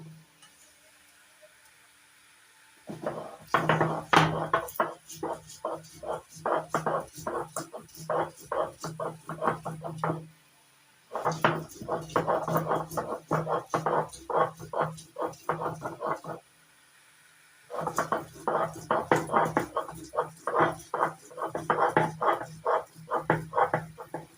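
Ginger and garlic being ground into a paste for a spicy fish curry, with rough rhythmic grinding in three long runs separated by short pauses, fairly close and steady.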